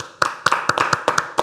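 A few people clap their hands at the end of a French TV or web show episode, sparse and uneven, with about seven sharp bursts of claps spread across a short stretch, close by and fairly loud, with no talk over them.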